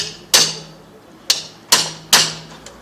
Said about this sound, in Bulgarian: чуката е изключително важен прибор в ремонта на каквато и да е финна техника